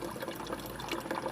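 Water streams steadily from a Sawyer Mini water filter, a soft continuous trickle and splash heard close up and fairly quiet, with no voices.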